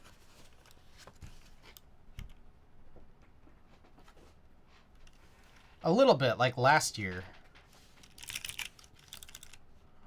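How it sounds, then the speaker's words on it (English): Quiet typing on a computer keyboard ticks softly in scattered bursts, with one louder flurry of clicks in the middle, while a person talks faintly at times. "I'm gonna bring out this keyboard."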